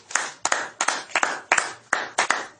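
Rhythmic hand clapping from a church congregation, with sharp claps landing in pairs at an even pace, close and fairly loud, and no voices over it.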